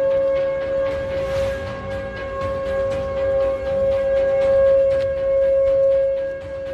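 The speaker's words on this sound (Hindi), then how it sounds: "ये सायरन टेक्सास के डल्लास शहर में रात को ऐसे ही गूंजा" A loud, sustained tornado warning siren wails steadily at night in Dallas, Texas, its tone holding level over a low rumble of background noise.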